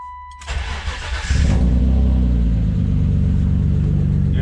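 A BMW 325i bi-turbo engine starts: a brief cranking whir catches into a loud, deep, steady idle rumble that holds to the end, with no talking.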